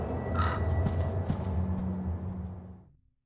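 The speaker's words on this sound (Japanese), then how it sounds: "カラス。" Crow cawing in the Call of Cthulhu video game on Switch, harsh calls over a dense, rumbling in-game ambience that fades out to silence at the end.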